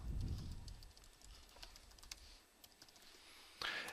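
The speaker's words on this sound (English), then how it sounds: "we'll type in Adam Storch and the email address" Quiet, close typing on a computer keyboard as a name and email address are entered into a request form, a steady patter of small key clicks with a brief louder burst near the end and no speech.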